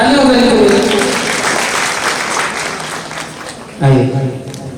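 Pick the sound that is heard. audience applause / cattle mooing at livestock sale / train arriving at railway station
audience applause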